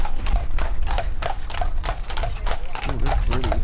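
Steady clip-clop of heavy Budweiser Clydesdale horse hooves, a brisk repeated rhythm, close and loud over a constant rumble, with voices and a brief whinny near the end.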